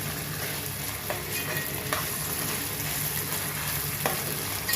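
Onions frying with ginger-garlic paste for chicken bagara rice, a steady close sizzle throughout with a few soft scrapes of stirring, no talk.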